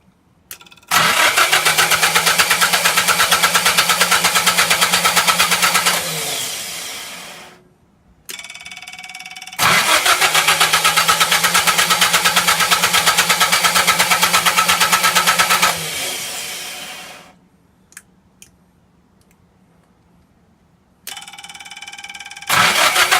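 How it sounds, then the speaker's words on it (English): An old houseboat generator set with an electric fuel pump cranks and catches, then runs at a steady loud drone. It stops, restarts and runs again, cuts out once more, and is starting up a third time at the end. "the old generator started up"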